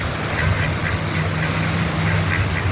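A mother duck and her ducklings quack at a pond, a run of short nasal quacks repeating close by over a low steady background hum, with no talk.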